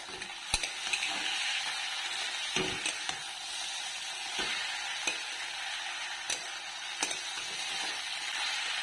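Cabbage frying in a pan with fish head, a soft, low-level sizzle under occasional sharp spatula knocks and scrapes as it is stirred.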